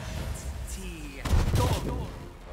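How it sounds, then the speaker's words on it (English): Magic missile spell bursts in Pathfinder Kingmaker, heard as a short cluster of sharp, crackling impacts midway through, loud against a backdrop of game music and ambience. "I guess more magic missiles."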